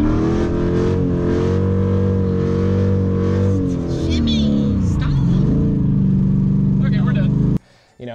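A loud C4 sports car engine revs and roars continuously while doing donuts, pitch sliding up and down as it spins, then cuts off abruptly near the end.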